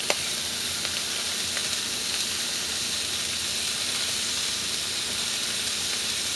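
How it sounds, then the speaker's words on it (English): Beef patties sizzle steadily on a hot grill for a Big Mac copycat, a dense, continuous frying hiss with faint crackles and pops, close and even throughout, with no talking. "You can see the patties are cooking really fast."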